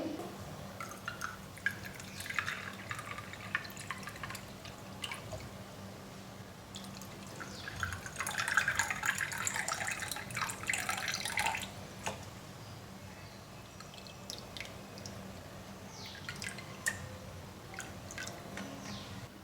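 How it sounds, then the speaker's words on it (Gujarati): Cold water runs and trickles into a glass with ice cubes for several seconds, with splashing and light drips, fairly close and soft, amid faint background hum. "અને ઠંડુ પાણી એડ કરી દઈએ"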